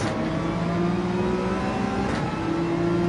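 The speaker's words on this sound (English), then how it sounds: "Someone's running a blow-off valve that likes to sizzle." A car engine in the video game Gran Turismo 7 drones and revs steadily, with a hissing, fluttering sizzle of a turbo blow-off valve venting.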